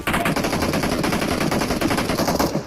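Rapid, continuous shotgun fire in BGMI, loud and relentless, shots overlapping in a dense burst for a few seconds before tapering slightly at the end.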